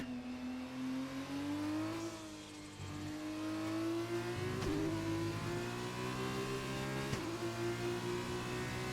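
Formula 2 race car engines in a racing video game, a high whining drone that climbs through gear changes with brief shift blips, continuous and fairly close, no talk.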